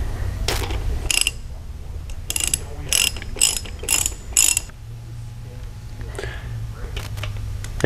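A ratchet tightens the outer bolt on a GM starter with several quick bursts of close, crisp clicking, separated by brief pauses, under low background noise.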